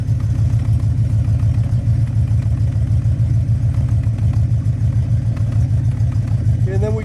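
A 1967 Cadillac Eldorado V8 idles through a true dual exhaust, giving a steady, deep, loud rumble that holds an even level throughout with a faint clatter on top.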